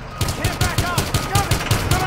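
Rapid automatic gunfire rings out in the Battlefield Hardline video game while shooting at a driver. Evenly spaced punchy shots, about five per second, are loud and close.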